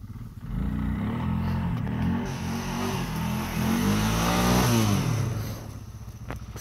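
An Arctic Cat 500 ATV engine revs steadily while driving, its mid-pitched motor climbing and holding loud and close, with no talking over it.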